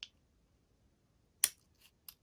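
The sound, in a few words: scissors widening a hole in origami paper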